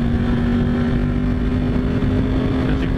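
A motorcycle being ridden, its engine making a loud, steady drone with a constant low hum that runs through the whole stretch without any break or change in pitch.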